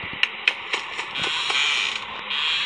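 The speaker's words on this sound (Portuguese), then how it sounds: "Fecha a porta e o Clodsvilda vem" A door creaks open in a horror video game, a drawn-out grinding squeal with a few sharp clicks at the start, fairly loud and heard alone.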